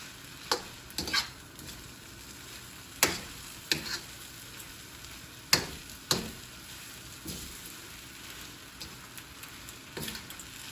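Steak and scallions stir-fry in a hot pan under a constant soft sizzle, punctuated by sharp utensil clacks and scrapes at irregular intervals as the food is folded, with no talking.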